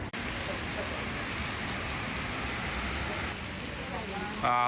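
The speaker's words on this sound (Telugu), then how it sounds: "it's raining so heavily" Heavy rain in Singapore pours steadily, a dense continuous roar of drops hitting surfaces, loud and close throughout with no pauses.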